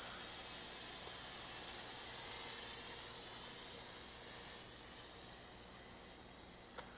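Steady faint whine of a Feilun FX176C1 brushed GPS RC quadcopter flying outdoors, thin high-pitched motor tones over broad hiss, distant and even throughout, with one brief tick near the end and no talk.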